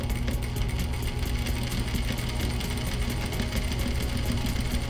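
A sewing machine stitches a seam through fabric close up, its rapid, even mechanical chatter running continuously without pause for the whole stretch.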